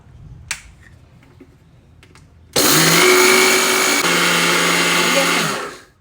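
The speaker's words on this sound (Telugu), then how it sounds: "మిక్సీ ఆన్ చేస్తున్నా" A kitchen mixer grinder sits quiet at first with a few small clicks, then bursts into a loud, close whirring run of about three seconds before winding down.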